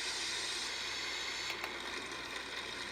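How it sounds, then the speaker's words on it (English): A bedside sleep sound machine plays steady white noise, a constant broadband hiss that holds at an even level throughout with no voices over it. "This is the white noise."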